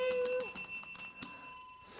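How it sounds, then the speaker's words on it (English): A small handheld bell rings a few times in quick strikes, each bright metallic ding ringing on and fading, close and clear with no talk over it. "Where's my bell gone?"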